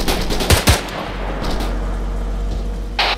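AK rifle fire in the ARMA 3 military video game, with a few sharp, loud shots near the start and another burst near the end, all over a steady rumbling background.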